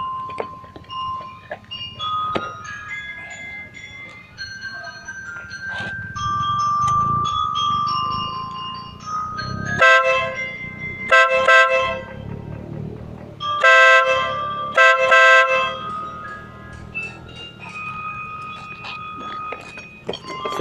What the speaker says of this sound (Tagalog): So ganun siya kalakas yung compact horn.